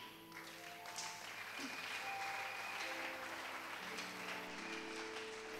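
A church congregation clapping and cheering in praise, giving a dense, steady wash of applause that holds for several seconds over sustained organ or keyboard tones, with some voices in the crowd.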